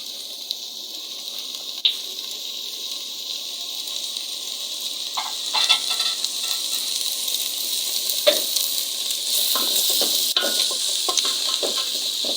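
Chicken seasoned with a pinch of salt frying in a pan, a steady bright sizzle and hiss throughout with scattered small pops and crackles, close and continuous with no talking.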